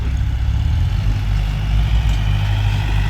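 A tractor engine drones loud and close during earth-levelling work, trimming the top of packed fill, with a steady low rumble and slight surges in load and no voices.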